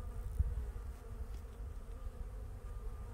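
Honey bees buzz steadily and close throughout a spring hive inspection, a dense low drone with no talk over it.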